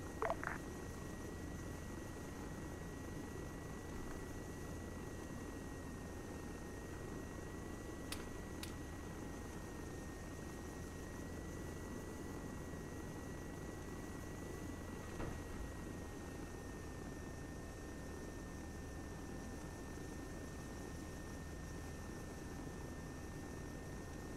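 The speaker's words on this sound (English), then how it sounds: "Incoming friendly chopper. Repeat," Helicopter in the Arma 3 video game, a steady droning rotor and engine hum running continuously at moderate level, with a brief click at the start and no voices.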